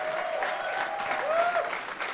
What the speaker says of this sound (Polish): Duże brawa, proszę Państwa